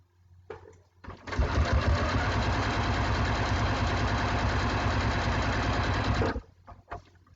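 A sewing machine runs continuously for about five seconds, stitching down a quilt binding with a steady mechanical hum and rapid needle chatter, bracketed by brief handling noises before and after.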